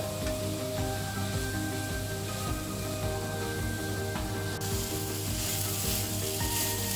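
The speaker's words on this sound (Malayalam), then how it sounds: "ഇനി എടുത്ത് വെച്ചിരിക്കുന്ന തേങ്ങ ചേർക്കുക. എന്നിട്ട് നന്നായി മിക്സ് ചെയ്ത് കൊടുക്കുക." Beetroot thoran, a Kerala-style dish of beetroot with grated coconut, sizzling in a pan as it is stirred and mixed, a close, even sizzle running throughout with soft scrapes and no voices.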